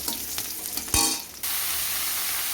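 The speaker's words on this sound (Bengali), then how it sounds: "জিরে, শুকনো লঙ্কা আর পেঁয়াজ ফোড়ন দিয়ে দিলাম" Cumin, dried red chilli and onion fry in hot oil, a loud burst of sizzling and a stirring scrape, then a steady close hiss that runs to the end without speech.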